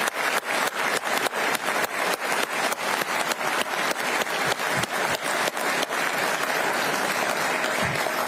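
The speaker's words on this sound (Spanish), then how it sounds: "Frente a este Congreso, le decimos gracias y le aplaudimos." Members of Congress applaud in a large chamber, steady loud clapping with some rhythmic unison beats that gradually blend into continuous applause.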